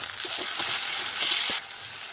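Ginger-garlic paste hisses in hot oil over browned onions, a steady broad sizzle with faint stirring clicks, close and continuous.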